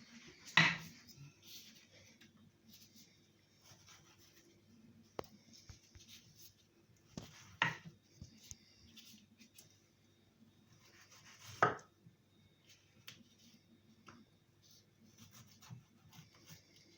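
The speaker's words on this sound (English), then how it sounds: "I finished peeling my mango and I'm going to slice up my mango." A knife slices through a peeled, juicy mango, giving a few separate soft scraping cuts spaced several seconds apart with quiet handling noises between them.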